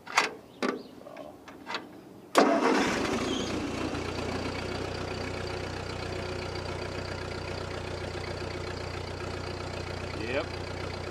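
A 1948 Ford 8N tractor engine cranks and catches after a few sharp mechanical clicks, then settles into a steady low idle that runs loud and close to the end, with a brief squeal near the close.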